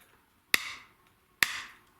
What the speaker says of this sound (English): There I just use the corner of the 8mm chisel just to roll around that corner of the number 4